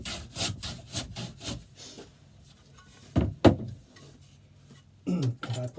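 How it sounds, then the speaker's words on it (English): A long-bodied hand plane is pushed over a wooden board in a handful of rasping strokes, some quick and rhythmic, others single and heavier, with brief pauses between them. "it's planing there, and it's planing there, they're the high spots"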